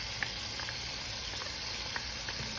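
Sausage with seasonings and vegetables sautéing in a pot, a soft, quiet, continuous sizzle with faint scattered pops and light stirring.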